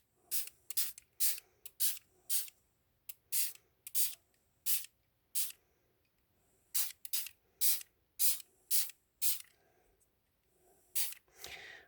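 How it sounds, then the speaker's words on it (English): Repeated short hissing bursts from an FSJ Color Splash shimmer spray bottle, about twenty quick close-up sprays in uneven clusters with brief gaps of quiet between them, no voices. "So I'm going to go ahead and just start spraying."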